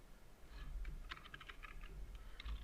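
Typing on a computer keyboard while filling in a PDF form: a quick run of close, light key clicks in irregular bursts over faint background hum, with no talk.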